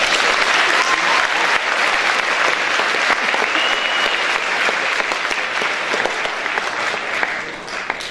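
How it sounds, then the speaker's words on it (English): Loud, sustained audience applause fills the room at the Mr. Thunder pageant, a dense wash of clapping that holds steady and tapers slightly near the end. "Let's hear another round of applause for Taylor Gonzalez."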